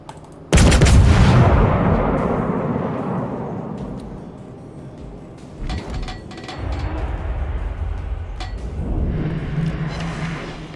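Warship main guns fire in World of Warships, a single loud deep boom that rolls out into a long fading rumble, followed by scattered distant shots and mechanical clanks over a low continuous engine drone.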